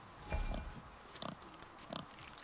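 Wild boar in God of War, grunting and snorting in short bursts, three separate grunts spaced about a second apart, moderately close over a busy background hum.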